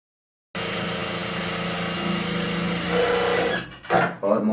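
A sewing machine runs steadily while stitching the folded hem of a petticoat, a continuous mechanical whir that stays close and loud before a few short stops and restarts near the end.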